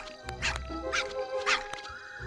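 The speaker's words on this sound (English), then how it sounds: "Little bite that sounds kind of like a dog bark." Short dog-bark-like bite sound effects from a dinosaur in the PS1 game The Lost World: Jurassic Park, three or four quick yips over a steady game background hum.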